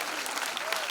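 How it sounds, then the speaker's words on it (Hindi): Brief burst of audience applause during a religious Shiv Mahapuran discourse, dense steady clapping heard at a moderate distance. "बजा दो तालियां जब पूरे बेसन दे रहे हैं"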